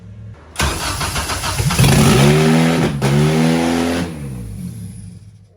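A Honda K24 engine swapped into an EG Civic cranks briefly, then fires and runs loud and rough with revving rises before settling to a steady idle, heard alone close up.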